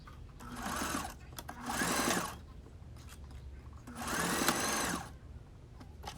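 Sewing machine stitches across a wig closure cap in two short bursts, then a longer one, each a close, loud mechanical whirring chatter separated by quiet pauses.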